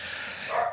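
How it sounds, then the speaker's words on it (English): A dog gives a single short bark or yip behind an astrology radio show broadcast, a brief moderately loud call over a steady hiss, with no talking in it. "I'm sorry for the dogs barking in the background"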